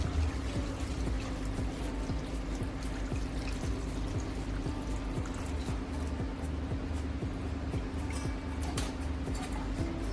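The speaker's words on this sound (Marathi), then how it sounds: "आता आपल्याला यामध्ये पाणी टाकायचं आहे." Water pours steadily into a cooking pot of browned country chicken, a low continuous gurgling stream with a faint underlying hum, quiet and close, without any speech.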